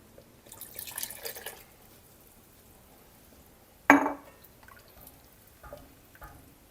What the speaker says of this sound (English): Let's add a little more water.